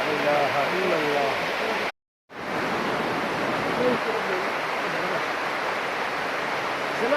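A clear freshwater river in Georgia rushes along in a broad, steady hiss that is briefly cut by a moment of silence, with someone speaking over the flowing water.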